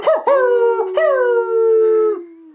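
Dogs howl in a loud, sustained chorus, long wavering tones rising and then sliding down together, alone with no talk.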